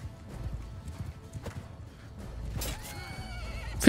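Horses gallop and neigh in the video game Mount and Blade 2: Bannerlord, a rumble of hooves building toward a sharp whinny near the end, amid battle noise.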